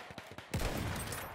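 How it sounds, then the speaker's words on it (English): Sniper fire in the video game Battlefield 1: soft muffled reports early on, then a loud sustained burst of battle gunfire and rumbling impacts. "getting sniped at"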